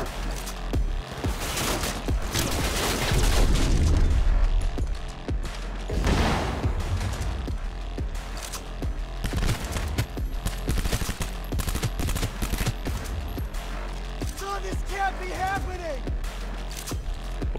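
Rapid automatic gunfire and blasts from the video game Cyberpunk 2077 pound out in dense, irregular bursts, with heavier booming impacts early on and scattered shots throughout, loud and close, with a brief voice near the end.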